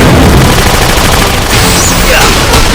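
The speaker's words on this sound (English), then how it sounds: "They can afford the biggest guns!" Bank robbers blasting away with big guns in an animated superhero action scene, a loud dense burst of rapid gunfire and booms that continues throughout with no pause.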